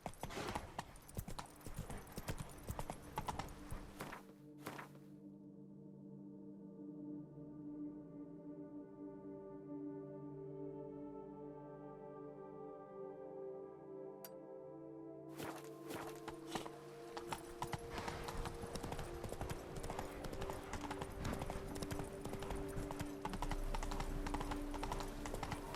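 Horse hooves clip-clop at a steady trot in The Witcher 3 as the horse is urged on, loud and continuous at first, dropping out briefly mid-way, then returning strongly; faint tonal game sounds sit underneath.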